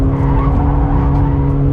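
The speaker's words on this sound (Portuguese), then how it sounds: "vou fazer uma curvinha mais quente aqui" Tires on a VW Polo GTS squeal loudly and continuously through a fast curve, the screech riding over a steady engine drone with no pauses.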